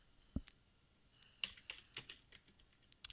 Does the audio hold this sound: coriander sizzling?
no